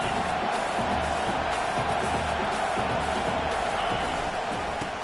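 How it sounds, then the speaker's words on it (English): A loud stadium crowd at a Tennessee college football game roars steadily during a fourth-down stand, a dense, sustained wall of cheering with no break. "This crowd busting the decibel meter and trying to will a fourth down stop."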